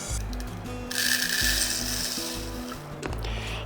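An electric mixer-grinder grinds dry-roasted spices without water, a steady motor whine with rattling, clattering blades and a brief change in pitch near the end.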